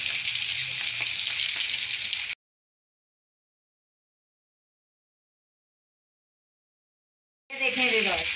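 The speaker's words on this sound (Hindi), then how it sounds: "ये देखें व्यूअर्स कितनी अच्छी मिर्चें फ्राई हो रही हैं, इनका कलर भी चेंज हो रहा है।" Green chillies fry in oil for a pickle with a bright, hissing sizzle for about two seconds. Total silence follows, then a voice enters near the end.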